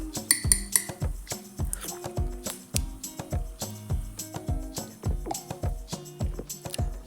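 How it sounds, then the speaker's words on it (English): A spoon quickly stirs an autumn café latte topped with nutmeg and Apfelstrudel Baileys Irish Cream, giving rapid, rhythmic clinks against the mug. The ringing taps come close and clear, with no talking. "A little drop of nutmeg would just take this over the top. Give that a quick stir."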